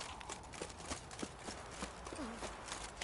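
Horse hooves clip-clop at a steady walking pace in The Witcher 3, fairly close and moderately loud over a soft ambient bed, with a brief low creak or snort near the end.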